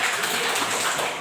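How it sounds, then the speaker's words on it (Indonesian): Classroom applause for a student group, a dense burst of many hands clapping together that holds steady before tapering slightly at the end. "tepuk tangan sekali lagi buat kelompok 1"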